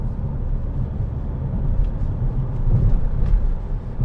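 Steady low rumble of a Skoda Octavia A5 diesel car with 318,000 km accelerating at half throttle, a continuous engine and road drone heard from inside the cabin, swelling slightly toward the end.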